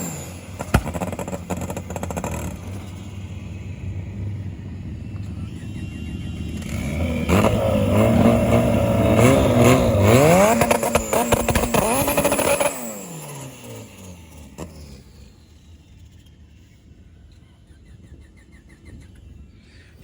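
A turbocharged drag car's engine revs hard through a burnout at a CMI March Mayhem race night, a loud sustained roar that rises and then drops away as the engine dies, leaving quieter track noise.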